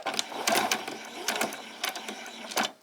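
A sewing machine stitches in reverse along a pyjama top, its whirring needle coming in several short bursts with brief pauses between them, close and fairly loud.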